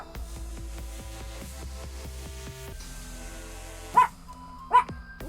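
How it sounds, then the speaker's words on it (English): A pet dog named Mickey barks twice in sharp, loud bursts close to the microphone, breaking through retro Tetris game music that plays steadily in the background. "of course Mickey's gonna bark"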